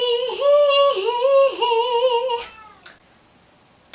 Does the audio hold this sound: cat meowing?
yes